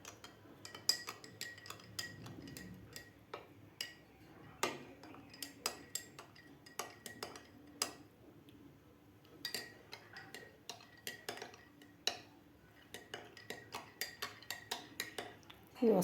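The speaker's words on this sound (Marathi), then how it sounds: "तर व्यवस्थित आपल्याला हलवून घ्यायचं आहे याला." A spoon stirs nachni ambil, a cooled finger-millet porridge, with a run of light clinking taps against the vessel in uneven bursts, fairly faint, with no talk.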